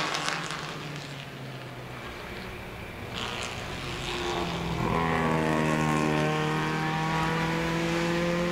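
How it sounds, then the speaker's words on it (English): Bill Schwartz's vintage Porsche, racing in the under-1.5-litre production group at the Pittsburgh Vintage Grand Prix, comes closer with a rising engine note. It roars past loud, pitch sliding as it goes, over a fainter background of other cars. "Here comes Bill Schwartz's Porsche"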